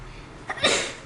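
A single sneeze indoors, a quick inhale followed by a sharp, forceful burst that trails off within a second, fairly close and alone.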